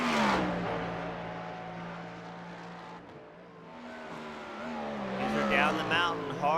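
A Porsche Cup race car at Mount Panorama racing circuit, its engine note dropping and rising through hard downshifts, loud and close at first, then easing before revving again, with a commentator talking over it.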